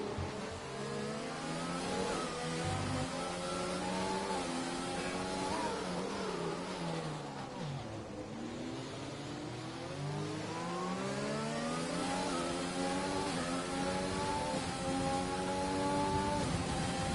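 F3 race cars in a sim racing event at Singapore running side by side, their engines revving and shifting continuously in overlapping rising and falling whines, loud and steady with no talk.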